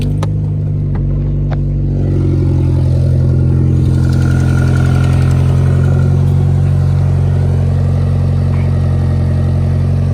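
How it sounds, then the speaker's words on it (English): A 1988 Jeep Wrangler YJ 4x4 engine cold-starts, cranking and firing up with a few clicks, then settles into a loud, steady idle with a deep, even rumble close by. "So here's a cold startup for you boys."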